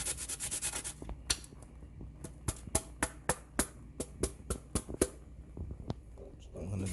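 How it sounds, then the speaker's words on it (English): Whole nutmeg rubbed on a grater over Jamaican plantain porridge, a dense scraping burst at first, then a string of sharp, rhythmic scrape strokes, close and fairly quiet. "I'm grating the nutmeg, you can see right here, into the porridge"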